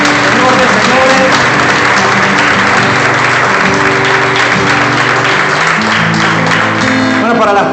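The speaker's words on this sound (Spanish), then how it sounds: "Un aplauso al Rey de Reyes, Señor de Señores." A congregation at a Christian worship gathering claps loudly and continuously for several seconds, with cheers and music mixed into the sustained applause.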